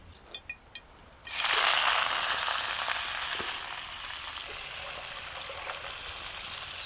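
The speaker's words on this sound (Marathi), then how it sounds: "अशी खळखळ धुवून घेते" Amaranth stalks get a vigorous wash in water, a loud rushing splash that starts suddenly after a few light knocks, peaks, then settles into a steady, slightly softer churning swish, with nobody talking.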